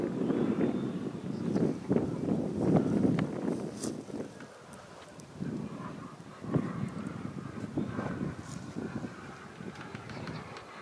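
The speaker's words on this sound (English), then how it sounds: "It's like a big turbine jet" An AeroFoam T-45 model jet aircraft flies overhead with a rushing, turbine-like roar that swells and fades, mixed with gusty wind buffeting on the microphone.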